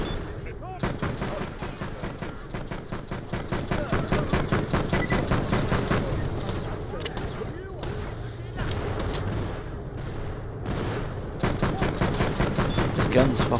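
Rapid automatic gunfire from a weapon in the video game Borderlands The Pre-Sequel, dense repeating shots in long bursts with short pauses, loud and close, while a player talks over the shooting.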